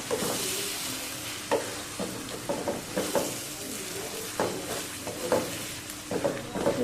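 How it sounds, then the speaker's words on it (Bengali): Spices stirred with a spatula in a hot pan after garam masala and cumin powder go in, for a dish of hilsa fish head with elephant foot yam: steady soft sizzle under repeated close scraping strokes in an uneven rhythm, no voices. "যে গরম মশলাগুলো দিয়ে এবার ভালোভাবে নাড়াচাড়া করে দেবো"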